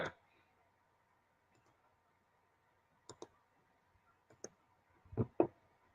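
Computer mouse clicks while navigating to a street search on a real estate MLS site, a few sharp isolated clicks spread across the clip with faint room noise and a louder double click near the end.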